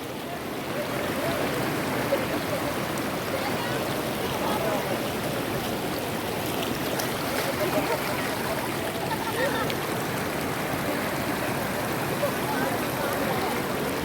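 Water rushes over rocks at Aathuparai Falls near Aliyar Dam in Coimbatore, a dense, steady, broadband roar that holds an even level throughout without clear speech.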